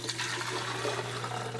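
Vinegar pours steadily into the water reservoir of a Keurig K-Express single-serve coffee maker, a continuous close splashing gush of liquid filling the tank with no talk over it.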